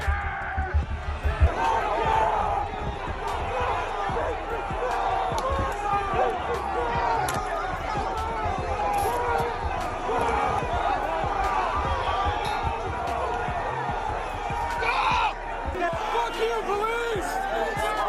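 A rioting crowd fighting police on the Capitol stairs, a loud, dense roar of shouting voices, chanting and scuffling that runs throughout, with a faint high electronic tone in the background.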